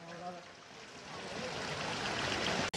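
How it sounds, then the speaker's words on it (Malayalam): Artificial waterfall in a garden in Ooty pouring steadily into a lily pond, a continuous broad rushing splash that swells slightly and holds close and loud throughout, with no talk over it. "ഇവിടെ ഒരു വെള്ളച്ചാട്ടമൊക്കെ അവർ സെറ്റ് ചെയ്തിട്ടുണ്ട്. ഇതിലെ വെള്ളം വീണ് ഒഴുകി താഴേക്ക് വന്ന് ഇതിനകത്ത് ഫില്ലാവും."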